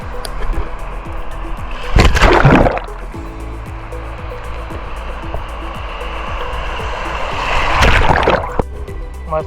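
Sea waves at Ganeshgule beach in Ratnagiri, heard from someone floating on an inflatable tube, with a steady wash of water and two louder surges breaking close by. No voices.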